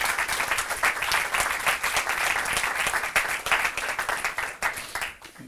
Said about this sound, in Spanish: no se quejará de los aplausos, ¿eh?